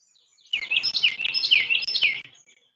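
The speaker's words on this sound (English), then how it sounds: "The cardinal in the background for a lot of the shorts was recorded from here." Northern cardinal singing from a distance, a run of bright, clear whistled notes repeating in quick succession for about two seconds, then falling quiet; no voices.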